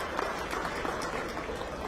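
An audience claps at a formal government foundation day ceremony, a brief burst of moderately faint, evenly spread applause.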